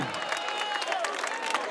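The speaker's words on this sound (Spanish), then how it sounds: "¡Fuerte el aplauso!" A crowd at a neighbourhood carnival contest in Curahuasi claps in dense, continuous applause, many hands at once, loud and close.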